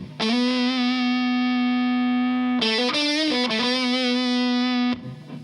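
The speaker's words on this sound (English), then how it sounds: "Let's see if I can make the big muff sound any good." An electric guitar drives a Big Muff fuzz pedal, sounding a long, loud, thick sustained note, then a few quick bends and slides before the tone stops near the end.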